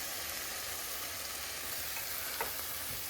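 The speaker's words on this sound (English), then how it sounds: "I'm going to deglaze with the green chilies to get a little bit of moisture in there" Green chilies hit a hot pan at a chili cook-off and sizzle in a steady, hissing crackle, with a faint scrape partway through and no voices.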